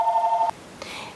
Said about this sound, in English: That's the phone. I'm going to answer it